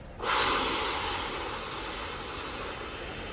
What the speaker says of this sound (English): We're going to suck in air rapidly.